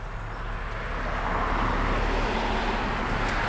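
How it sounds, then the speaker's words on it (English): A car passes by on the road beside a driveway, a broad tire and engine rush swelling gradually louder over a few seconds, with no talking. "There's a car passing by,"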